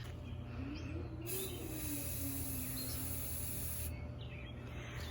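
An aerosol can of spray paint hisses in steady bursts, spraying into water, a continuous sound that briefly cuts out and starts again, with faint bird calls in the background.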